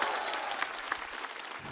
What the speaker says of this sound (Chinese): 所以我们把掌声献给他们幕后的工作人员